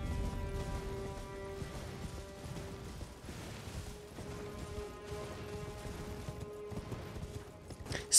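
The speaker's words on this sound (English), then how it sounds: "Spamming dash on horse is in fact faster" Torrent, the spectral steed in Elden Ring, gallops in-game with a steady mechanical clip-clop of hooves layered over constant background music, ending with a sharp louder hit.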